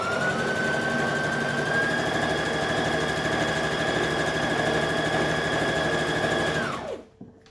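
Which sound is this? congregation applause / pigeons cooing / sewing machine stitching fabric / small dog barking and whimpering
sewing machine stitching fabric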